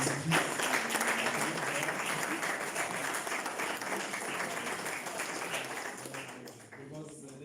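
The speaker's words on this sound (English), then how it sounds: "I think you need to clap for yourself" Mentors at an end-of-year mentorship function applaud, a sustained crowd clapping that fades slightly toward the end, with some voices mixed in.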